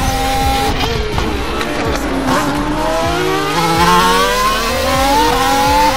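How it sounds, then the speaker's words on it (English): Formula E electric race cars drive by with high, whining motor tones that sweep up and down in pitch as several cars pass close and loud in a continuous stream. "these are electric cars, so you're not getting the typical Formula One noise"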